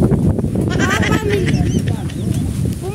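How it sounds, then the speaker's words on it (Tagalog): Goats bleat repeatedly, several overlapping wavering cries close by, while a person talks over them. "Ala, yung mga kambing. Hoy, hello mga kambing."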